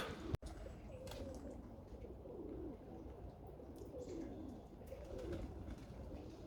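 Soft, repeated cooing of Budapest pigeons close by, low and throaty, rolling on steadily after a brief sharp click at the start.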